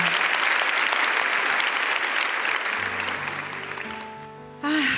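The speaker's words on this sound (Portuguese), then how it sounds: "Pode aplaudir com força." Congregation in a church applauding strongly, a dense continuous wash of clapping that tapers off after about four seconds as music or a voice begins.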